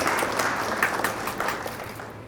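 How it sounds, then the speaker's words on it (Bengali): An audience claps steadily at a prize-giving for a phuchka competition, a dense wash of applause that holds at an even level and then fades slightly toward the end. "সবাই হাততালি দিন"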